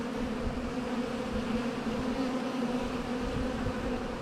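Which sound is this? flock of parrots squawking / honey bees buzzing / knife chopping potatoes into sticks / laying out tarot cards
honey bees buzzing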